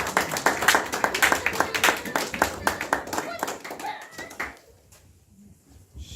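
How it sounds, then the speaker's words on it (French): A church congregation claps in a dense burst of applause that thins out and fades to near silence, with a few voices mixed in. "On acclame s'il vous plaît."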